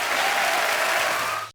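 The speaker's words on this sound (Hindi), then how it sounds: "जोरदार तालियां हो जाए एक बार" A studio audience on the Kapil Sharma Show bursts into loud, dense applause that holds steady, then cuts off abruptly.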